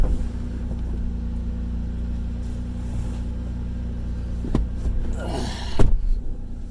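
A 3rd Gen Toyota 4Runner drives in rear-wheel drive, its engine giving a steady low rumble throughout, with a couple of brief louder swells and clunks near the end.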